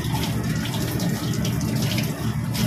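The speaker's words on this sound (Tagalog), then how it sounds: "Hugasan po natin ang pecha" Pechay (bok choy) is rinsed under a strong, steady stream of running tap water, a close continuous gushing splash with no pauses.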